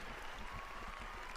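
A crowd of young people at a papal meeting with Pope Francis in Hungary applauds steadily, a dense, even wash of clapping heard briefly at a moderate distance.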